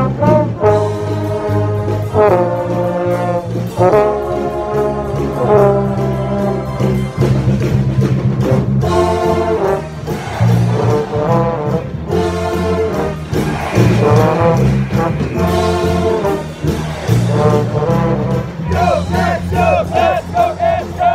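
Hockey arena crowd at the Berry Events Center at Northern Michigan University chanting along to a song over loud amplified music, with rhythmic group shouts rising and falling across the full stretch.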